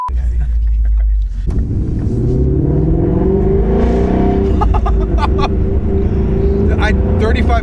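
A sports car engine climbs to about 3,500 RPM and turns loud and raspy, the rising rev heard from inside the cabin with voices talking over it.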